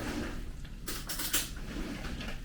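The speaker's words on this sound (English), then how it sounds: "We're going to get a spoon." A metal spoon clatters among dishes and cutlery in a kitchen where salsa is being made, giving a short burst of bright clinks and scrapes over a low, steady room noise.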